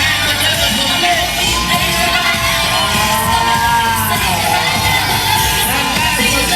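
Pageant audience clapping and cheering for a contestant, a dense continuous wash of applause with shouts and whoops from a large crowd, loud and steady throughout.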